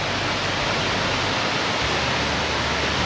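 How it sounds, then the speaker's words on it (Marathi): Savatsada waterfall near Chiplun sends water plunging from a great height, a loud, unbroken broadband roar with no voices over it. "एवढ्या उंचावरून हे पाणी पडतं आहे"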